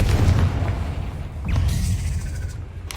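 Confringo spell explosions in Hogwarts Legacy, with a deep booming blast at the start and another around the middle over low rumbling combat noise, fairly loud with no talk.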